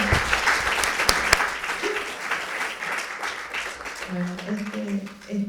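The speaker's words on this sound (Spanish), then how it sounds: "Si quieren pueden aplaudir a Borges." An audience at a Borges festival talk claps in a dense burst of applause that fades over several seconds, with voices murmuring underneath.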